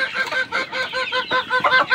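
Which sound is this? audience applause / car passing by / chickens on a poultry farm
chickens on a poultry farm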